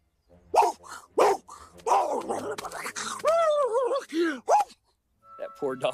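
A dog barks a few times in a comedy film scene. The barks are sharp and loud, mixed with excited speech and groaning vocal sounds.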